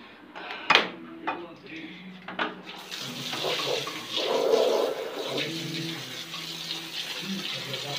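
Tap water fetched and poured to wash small rugs at home, with running, splashing water that swells in the middle and continues under occasional talk, plus a few clunks.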